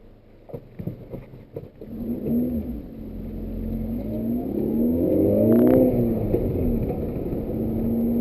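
A 2005 Suzuki Ignis Sport with its 1.5-litre M15A engine accelerates on a downhill road, engine note climbing steadily over a low road rumble after a few faint clicks at the start.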